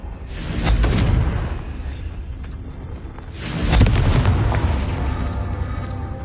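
In a video game, the Confringo blasting spell sets off two deep, booming explosions a few seconds apart, each followed by a long rumbling roar that fades slowly.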